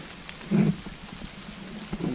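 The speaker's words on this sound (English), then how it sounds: "rain's coming down harder" Heavy rain falls outdoors as a steady, soft hiss, with a couple of louder rumbling bumps against the constant wash.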